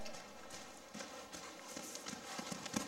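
A horse's hooves at a right-lead canter during a riding lesson, a faint three-beat thudding rhythm in a steady repeating pattern, somewhat distant, with no talk.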